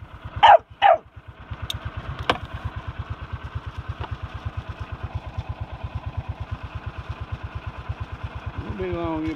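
Dogs at a kennel give two sharp barks near the start, then a single yelp, over a steady idling engine chugging close by throughout.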